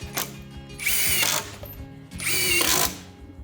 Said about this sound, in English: you need to be careful and precise when tightening the bolts for the sills